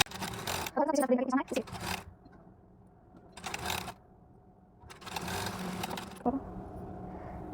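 A sewing machine stitches blouse fabric in short bursts of whirring, separated by pauses, with someone talking between the runs.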